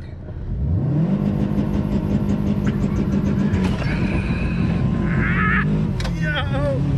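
A Subaru's engine revs hard and accelerates, a loud sustained drone rising in pitch from inside the car, with excited voices whooping over it near the end.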